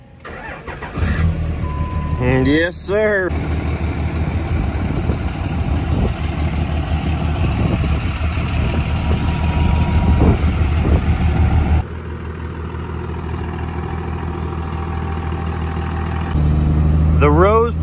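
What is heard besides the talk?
truck engine starting and idling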